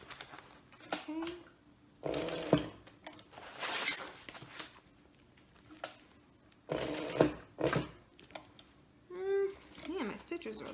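A sewing machine stitches a Lauren bag in a home sewing room, running in several short bursts of rapid whirring separated by pauses, with a voice speaking softly between runs.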